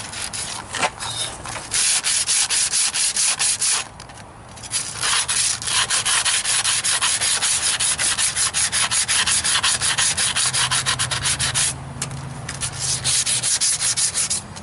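A disc sander fitted with 80 grit sandpaper grinds against a surface in a loud, harsh, continuous scrape, with a couple of short dips as contact eases, heard up close and alone.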